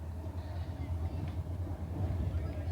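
A Garib Rath passenger train running from Kolkata to Puri, heard from inside the carriage as a continuous low rumble with a faint rolling rhythm.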